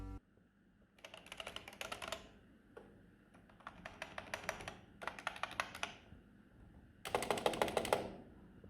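Typing on a Knucker budget membrane gaming keyboard comes in four bursts of rapid, close key clicks, separated by brief pauses, with the last burst the loudest and densest.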